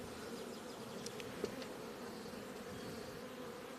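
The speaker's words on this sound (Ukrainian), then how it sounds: "Це реально гігантський рій." Dense, steady buzzing of a giant honeybee swarm on a hive frame drones on at low volume, with a few individual bees flying past more closely.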